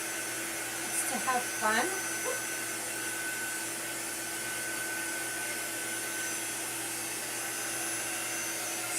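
A handheld craft heat dryer blows a steady, even whir across watercolor paste, an unbroken airy drone lasting throughout, with a brief voice speaking near the start.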